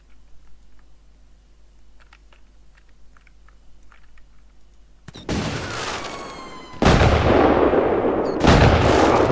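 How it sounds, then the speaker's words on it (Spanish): Fireworks or firecrackers going off in the PokeWilds video game: a loud burst of crackling pops starts abruptly after several quiet seconds, then a second, heavier barrage follows, dense and continuous. "pero esos son fuegos artificiales o..."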